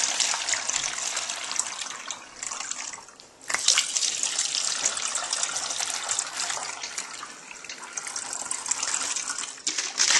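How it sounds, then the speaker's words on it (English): Warm water gushes steadily into a 1 liter bottle holding sugar for homemade root beer, a close continuous pour that briefly pauses partway through, then resumes filling. "Then take your warm water, a couple cups of it, and add it to each"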